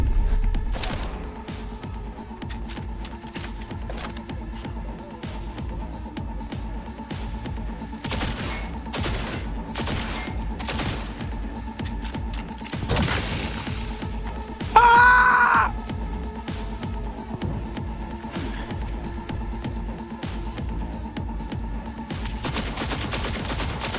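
Video game gunfire and grenade explosions fill the clip with a dense run of sharp shots and bursts, with one louder blast near the middle, all against a steady background.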